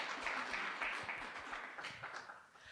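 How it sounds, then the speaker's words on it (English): Faint, distant applause from a symposium audience: a soft, steady patter of many hands clapping at low volume. "Yeah, clap for that."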